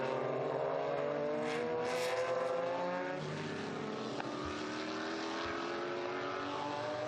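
Historic Porsche race cars scream past on the Estoril circuit, their engine notes climbing and sweeping in pitch as several cars pass in close succession, loud and sustained.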